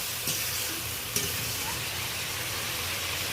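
Ground spices going into a pan for an egg and pointed gourd curry, heard as a continuous hiss of frying with a couple of brief spoon taps against the pan, close and without speech.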